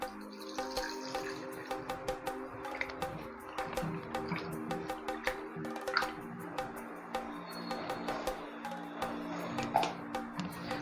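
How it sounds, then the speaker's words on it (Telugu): Small anchovies being washed by hand in a bowl of water, with steady sloshing, dripping and splashing in close, continuous rhythm and no talk. "సో ఇప్పుడు మనం వాటర్ వేసి క్లీన్ చేసుకుంటాం"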